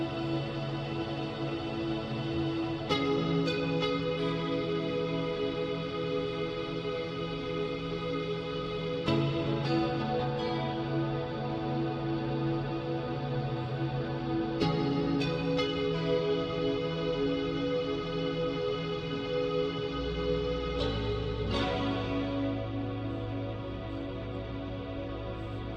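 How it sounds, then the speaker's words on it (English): Sustained chords on a keyboard or pad swell into a dense, washy reverb tail from an automated reverb freeze effect that hangs and smears between changes, with no voices. "I do have some automation on the freeze effect from the reverb"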